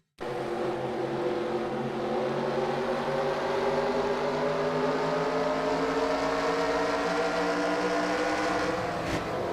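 Stock race car in a NASCAR-style racing video game at New Hampshire: a loud, steady engine drone that shifts in pitch across the clip, ending in a brief sharp burst, with no talking.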